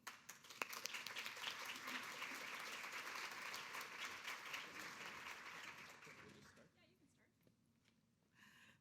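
Conference audience applause welcoming two speakers to the stage: steady, full clapping from a crowd for about six seconds, then fading out as a voice begins speaking.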